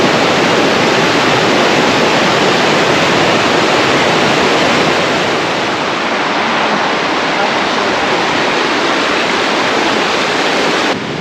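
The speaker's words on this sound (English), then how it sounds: "look at how much water is coming out right now" Cold creek water from Wyoming's periodic spring rushes in a loud, steady roar, a dense wash of whitewater that holds nearly constant for the whole stretch, up close with no gaps.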